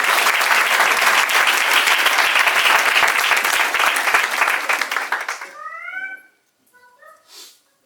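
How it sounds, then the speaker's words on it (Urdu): A church congregation claps together in loud, dense, sustained applause for about five seconds. It thins out and stops, followed by a few brief high tonal calls. "تو پھر تالیاں بجائیں"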